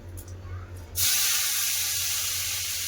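Salted, turmeric-coated bitter gourd hits hot mustard oil in a wok, and after a quiet moment with a low voice, a sudden loud hissing sizzle starts and holds steady.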